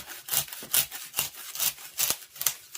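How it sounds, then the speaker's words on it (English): A hand saw rasps back and forth through a wooden craft heart in about six quick, even strokes, close and dry with no talking. "just start sawing away at it"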